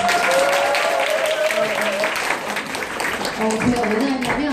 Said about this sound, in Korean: 우리 정미리 대표님도 박수 한번